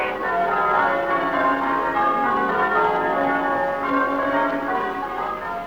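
Church-like bells from a classic Doctor Who serial ring continuously and loudly in a dense, overlapping peal of sustained metallic tones, with no talk.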